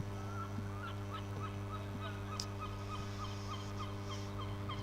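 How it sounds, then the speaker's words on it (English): Repeated honking calls from a noisy goose-like bird at a cricket ground during a county championship match, a steady series of nasal honks over a constant hum of background noise, with no talk. "Noisy bird."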